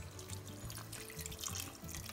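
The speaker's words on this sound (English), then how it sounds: "we're going to add some water." Hot water pours steadily into a pan of lamb and pumpkin curry on medium heat, a continuous soft splashing with faint bubbling and no talk.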